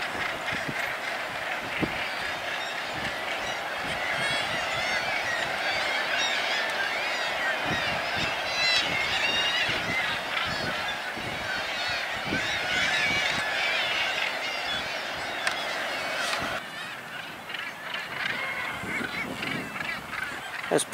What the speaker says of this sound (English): They look like gannets to me.